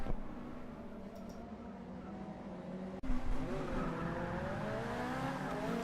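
Touring cars at the start of a BTCC race at Brands Hatch Indy in a racing video game, engines droning loudly with rising pitch, a sudden jump in roar about halfway, and tire squeal.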